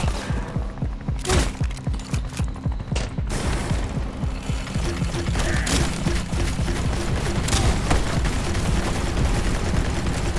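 Video game firefight with an RPG and grenades: rapid rhythmic bursts of automatic gunfire at first, then dense continuous clatter and blasts, loud and close, with no talking.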